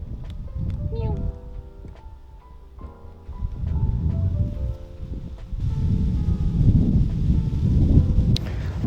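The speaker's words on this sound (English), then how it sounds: "It's very windy." Gusty wind in a park buffets the microphone in loud, low rumbling bursts that rise and fall. A voice and some tonal sounds come through near the start.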